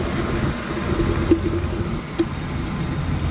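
A BMW engine idling with a bad fan clutch and a head gasket leak, giving a steady close mechanical drone with a faint whir and two small knocking ticks.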